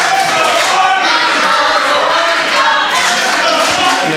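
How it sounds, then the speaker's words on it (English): A wrestling crowd at an APW Breakout show reacts loudly to James Marshall and his trash can, a dense, steady roar of many voices filling the arena without a break. "And the crowd letting it be known what they feel about James Marshall and his trash can."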